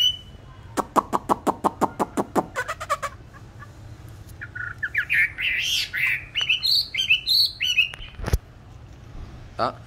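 A tamed songbird during song training gives a rapid series of about a dozen sharp clicking chips, then a run of bright whistled and warbled phrases, close and clear over low background hum.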